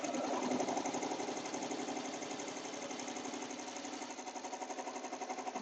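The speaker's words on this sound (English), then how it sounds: "So let's stitch this down." An embroidery machine stitches the back piece of a placemat zipper pouch in the hoop, a steady, close, rapid mechanical rhythm that runs the whole time with no voices.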